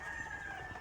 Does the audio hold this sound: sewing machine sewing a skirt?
no